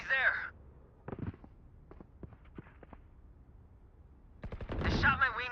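Gunfire in the Valorant video game, short sharp bursts of shots clustered in quick volleys with gaps between, mid-distance, mixed with brief game voice lines.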